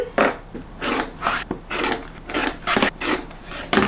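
A fabric quilt block is trimmed close by, giving a run of rough, rasping strokes in a steady rhythm of roughly two or three per second, with no talk.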